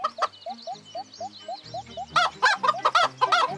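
Chicken clucking in a video game, a steady run of short repeated clucks followed by a louder, busier burst of squawking fowl calls over faint game background sounds.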